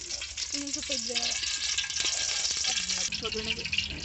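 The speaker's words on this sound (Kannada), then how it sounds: "ಆಯಿಲ್ನ ಹಾಕ್ತಿದ್ದೀವಿ." Oil heating in a pot on an outdoor village stove for a biryani gravy tempering, a dense, steady sizzle throughout with voices talking faintly underneath.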